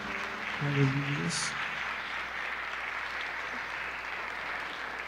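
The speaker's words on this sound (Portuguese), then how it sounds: "Você pode aplaudir o Senhor." Steady applause from a church congregation fills the whole clip, with a single voice speaking briefly near the start.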